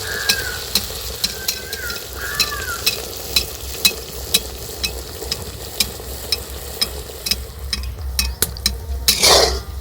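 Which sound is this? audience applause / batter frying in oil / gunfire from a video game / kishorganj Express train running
batter frying in oil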